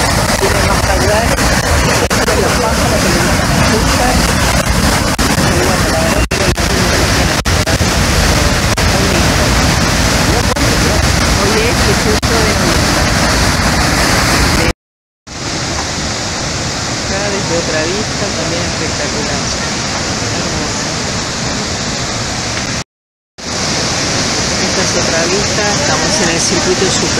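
Iguazú Falls roars as a dense, unbroken wall of rushing water, loud and close, with two brief dropouts where the sound cuts away before the torrent resumes.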